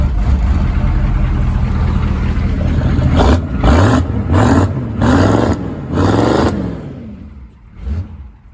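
Engine of a vehicle that sat unused since 2022, running loud and close, idling roughly then revved in four or five strong bursts before settling and dropping away.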